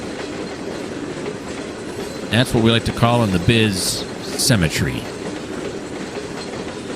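A train rolls along rails in the Trainz 2019 railway game, a steady rumbling clatter running throughout beneath someone talking over it.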